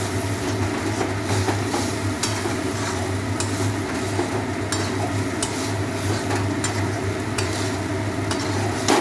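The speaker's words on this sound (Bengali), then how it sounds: "কিছুক্ষণ কষাবো, একটু জল দিয়ে দিচ্ছি।" Cauliflower and potato sizzle and fry in a pan with water being added, a dense continuous crackle with a steady hum underneath and regular scraping strokes of stirring, close and loud with no talking.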